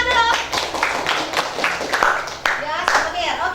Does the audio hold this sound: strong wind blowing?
no